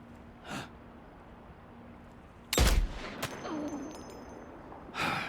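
A single loud, sharp gunshot from Death Stranding 2: On The Beach cracks out with a ringing tail, set among soft breathy sounds in an otherwise quiet scene.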